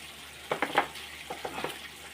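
Finely chopped onion hitting a hot pan for a palak paneer, giving soft, brief sizzling bursts near the middle of a quiet moment, with faint stirring and clinks after.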